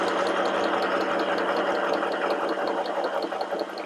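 A compact domestic sewing machine with 12 stitch patterns stitches steadily around a curve in fabric, a continuous moderate-speed mechanical whir with fine repetitive needle ticks, close and alone.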